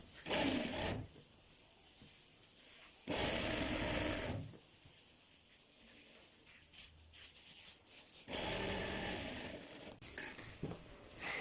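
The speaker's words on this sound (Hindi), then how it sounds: "अब हमने फाइनली यहाँ अपनी पैर की सिलाई लगा देंगे" A sewing machine stitches a seam on a shirt in three loud runs of whirring, buzzing noise, separated by quieter pauses with light mechanical handling sounds.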